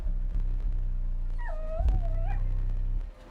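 A dog gives a short, high, wavering whimper, close by, over a low background hum and some faint shuffling.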